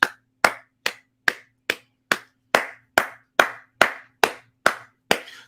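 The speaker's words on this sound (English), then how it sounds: "Gotta give you a motherfucking round of applause" A single pair of hands claps slowly and steadily, about a dozen crisp, evenly spaced claps, close and loud against near silence.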